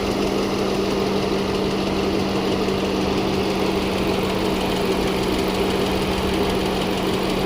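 Engine of a 2007 Ford Fusion idling with the A/C system running, a loud, steady close-up drone with constant low hum and even vibration, no talking.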